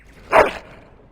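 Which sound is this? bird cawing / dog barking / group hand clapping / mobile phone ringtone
dog barking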